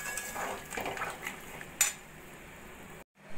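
A spoon scrapes and clinks in a pot while okra and potato curry with poppy seed paste, water and green chillies is mixed, quiet close stirring with one sharper clink near the end.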